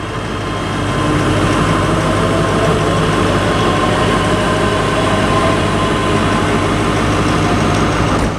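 A ScotRail Class 385 electric train departs Stirling station on the service to Glasgow Queen Street, a loud, steady close-up rumble and whine of wheels and traction that holds throughout without pause.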